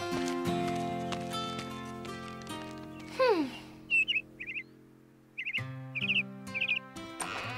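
A small bluebird in a cartoon chirps in several quick bursts of high, bright tweets, following a sliding whistle-like tone over a light musical score with soft clip-clop.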